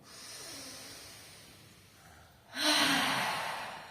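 A slow breath drawn in during a guided breathing exercise, followed by a louder, airy exhale in a quiet room, close to the microphone.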